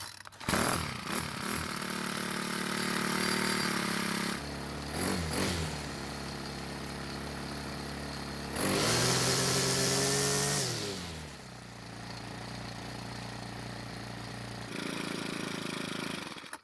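A Craftsman 4-cycle string trimmer engine with a fitted attachment runs close by, buzzing steadily at idle with several throttle blips that rise to a higher whining rev before settling back.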